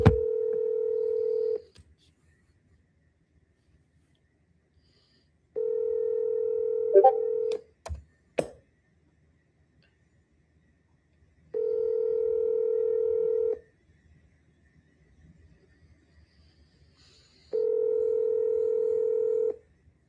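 Outgoing call on a telephone: a quick burst of dialing tones, then the ringback tone repeats in four long even pulses separated by silences, with a brief click in between.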